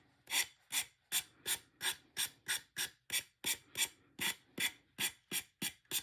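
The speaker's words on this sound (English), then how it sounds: "It's just a finger sander." A small finger sander rubbing back and forth along edges in a craft project, about seventeen even rasping strokes in steady rhythm, close and clear, with no talking.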